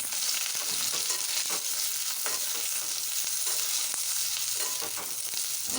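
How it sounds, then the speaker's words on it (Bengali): Eggplant pieces frying in a little oil make a constant bright hiss and sizzle close by, with occasional soft stirring scrapes and no voices. "বেগুনটাও ভালো করে ভেজে নেব।"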